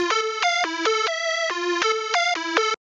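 A bright, dry hard melodic schranz synth lead plays a quick staccato melody of stepping notes, clean and upfront with no effects or reverb tail.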